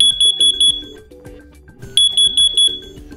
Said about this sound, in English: you'll hear a loud 85 decibel T3 pattern chirp to alert you